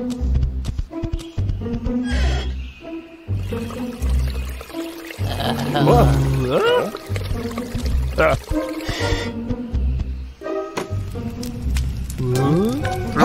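Water pours into a kettle in a cartoon, a continuous splashing trickle interspersed with cartoon voices speaking and exclaiming over it.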